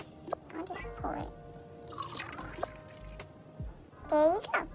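Homemade lemonade poured into a cup at a children's lemonade stand, a short trickle and splash of liquid heard close among brief speech from kids.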